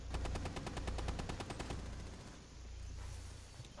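Rapid automatic gunfire in the video game Rainbow Six Siege rattles out in a dense, fast burst for about two seconds, then gives way to a low rumbling tail and faint background noise.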